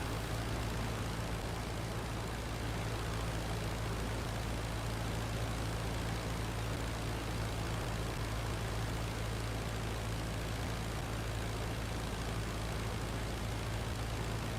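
Albatros biplane's propeller engine in the World War I flight game Flying Circus, a steady, dense, unbroken drone with a constant low hum that fills the whole stretch, loud and close with no talking.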